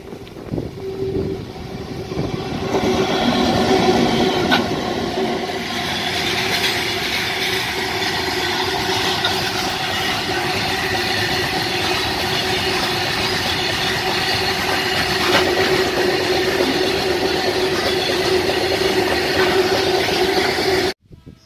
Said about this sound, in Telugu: గూడ్స్ ట్రైన్ అయితే వస్తుంది